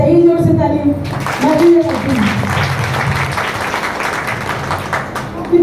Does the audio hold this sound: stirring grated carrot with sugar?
no